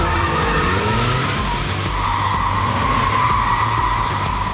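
A rear-engine, rear-wheel-drive Porsche 911 slides during a stunt for a car action film, tires skidding in a loud, sustained squeal over the engine's roar, close and continuous.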